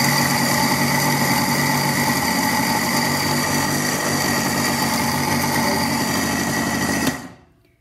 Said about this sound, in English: So that's how beautiful my grinder is.